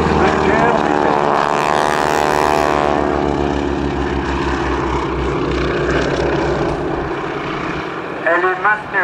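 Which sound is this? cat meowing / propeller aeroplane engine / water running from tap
propeller aeroplane engine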